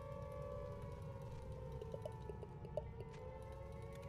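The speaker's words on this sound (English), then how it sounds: "Something's making the sirens go off, but I can't ID it." Air raid sirens sound in the Highfleet video game, a steady wailing tone that holds throughout with faint pulsing blips over a low rumbling game background.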